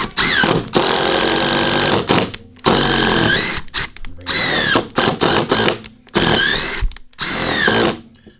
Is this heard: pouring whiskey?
no